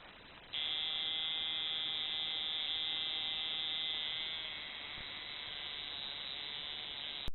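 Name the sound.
tattoo machine buzzing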